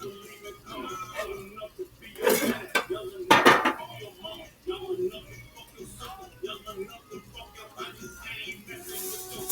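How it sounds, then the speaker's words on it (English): Aluminum foil is handled while lining a kitchen pan, giving crinkling and metallic clattering of cookware, with a couple of sharper bangs, under quiet background sounds. "Line your pan up with some foil."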